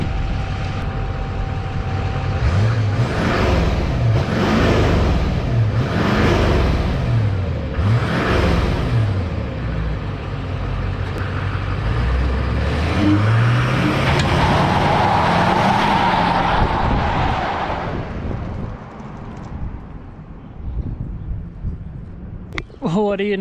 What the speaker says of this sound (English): It can do a burnout.